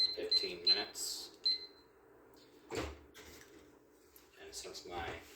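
Kitchen timer being set for cream puffs, a few short electronic beeps near the start, followed by soft handling clatter and kitchen noises, with a voice talking now and then.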